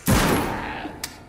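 Single loud shotgun blast in Arizona Sunshine, a close boom that decays over about a second, followed by a faint mechanical click.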